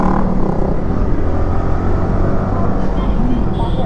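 A motorcycle exhaust fitted with a dB killer gives a loud, steady, rumbling drone without clear rev peaks, heard up close in traffic.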